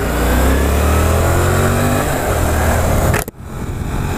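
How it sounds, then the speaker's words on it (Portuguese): A Yamaha MT-07 motorcycle engine revs hard and loud up close, with a rising roar that cuts off abruptly near the end as wind noise takes over. "Acelera, senão a gente fica pra trás."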